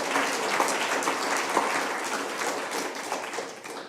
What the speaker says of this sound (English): our team leaders, Mike Kemp and Tommy Potts, just a big round of applause